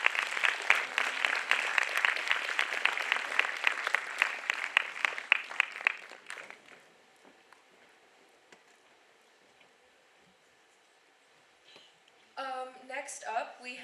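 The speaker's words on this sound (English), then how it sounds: "Round of applause, everyone." A panel discussion audience claps for about six seconds, the applause thinning and fading into quiet before a voice begins speaking near the end.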